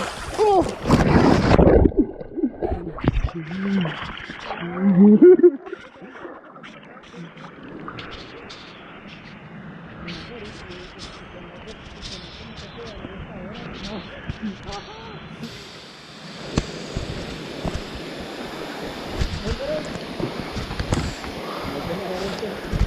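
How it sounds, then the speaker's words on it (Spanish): A person falls into river water with a loud, heavy splash at the start, then shouts and steady talk continue over the noise of running water. "me he caído al agua"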